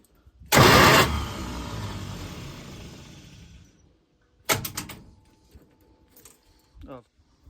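A 1954 International Metro engine cranks and catches with a loud burst, then settles into a rough idle that fades over a few seconds, followed by a door slam and some brief mechanical clunks.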